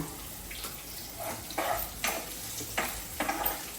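Ivy gourd (dondakaya) pieces frying in a pan, a steady close hiss of sizzling oil with soft scraping as they are stirred, the stirring coming in repeated bursts.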